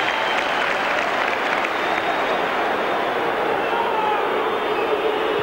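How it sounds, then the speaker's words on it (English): Football crowd applauding steadily as a player leaves the pitch late in a match, a dense, continuous wash of clapping from a large stadium audience with a faint murmur beneath, no break throughout. "The crowd standing to applaud Pierce as he comes off"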